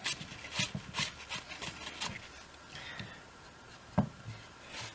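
Someone wipes excess epoxy off the wooden body of a cigar box guitar, making soft, irregular rubbing strokes close to the microphone, with a brief knock near the end.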